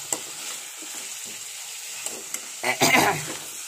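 Masala frying and being stirred in a pan at home, a steady soft sizzle with scattered scrapes and clinks, swelling into a louder burst of sizzling near the end, no talking.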